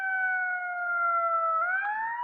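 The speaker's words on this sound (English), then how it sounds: "Let this ambulance go by, all right?" An ambulance siren passes close by, a loud, steady two-tone wail that holds level and then rises slightly near the end, with no talk over it.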